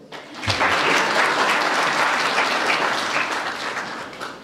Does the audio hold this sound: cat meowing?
no